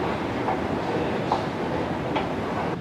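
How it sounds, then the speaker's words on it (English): Airport tram shuttle running between the NEC and Birmingham Airport, a steady loud rolling rumble from inside with a few faint rhythmic clicks over the track, no speech. "See this tram thing that goes back and forth from NAC to Birmingham Airport?"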